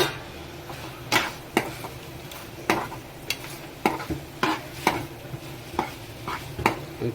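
Fried prawns get stirred into a chilli gravy in a pan, a spatula scraping in sharp, irregular strokes over a soft background sizzle, close and clear with no talking.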